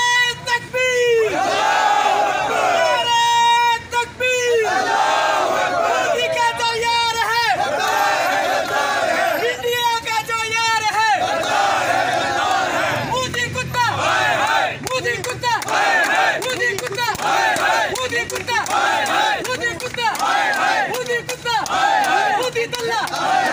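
A large street protest crowd in India roars a religious slogan in unison, loud and near, with the chant rising in repeated waves and overlapping shouts and babble between them.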